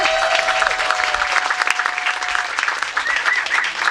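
At a poetry reading event, the audience gives brief, steady applause that fills the room at moderate loudness, with a faint tone running beneath the clapping.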